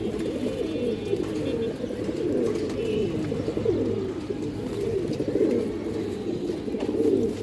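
A flock of pigeons in a loft coos continuously, many overlapping low rolling calls close by with a steady murmur throughout and no pause.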